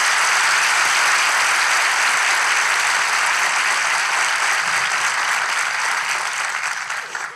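A large live-show audience in İzmir applauds steadily for several seconds, a dense wash of clapping that holds level and then begins to fade at the end.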